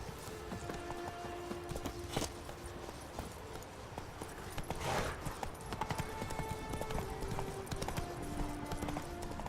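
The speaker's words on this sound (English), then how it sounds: "Oh, now I can call my horse." Horse hooves clip-clopping at a gallop in the video game Witcher 3, a faint rhythmic patter of steady beats under game ambience, with a brief louder swell midway and no clear speech.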